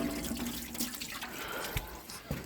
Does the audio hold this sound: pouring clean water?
yes